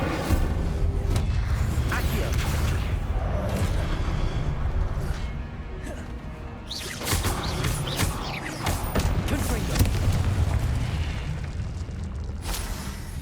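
Confringo and Incendio spell blasts go off in the Hogwarts Legacy video game as loud, repeated booming bursts and whooshes in a dense, continuous stretch of combat noise, with a voice calling out over them.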